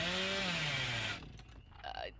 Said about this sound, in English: No, I heard a chainsaw rev up.